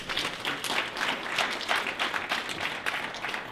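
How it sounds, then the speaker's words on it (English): An indoor audience applauds a World War II veteran at a ceremony, a dense, even wash of many hands clapping without pause, fairly loud and close, with no voices over it. "a round of applause for that"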